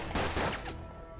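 Gunfire in the turn-based tactics video game Hard West: a short, loud burst of two or three close shots in quick succession, with a ringing decay trailing off under steady game background sound.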